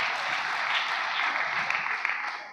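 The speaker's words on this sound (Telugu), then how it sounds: "చప్పట్లు కొట్టండి బిగ్గరగా." Congregation at a Christmas worship service clapping loudly, a dense, sustained burst of applause that stays steady throughout and stands alone without speech.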